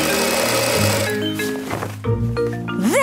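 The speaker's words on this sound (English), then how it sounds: "Cut the cloth and sew it up." A sewing machine stitches dress cloth in a Peppa Pig cartoon, whirring in short mechanical runs that stop and start, ending in a rising tone.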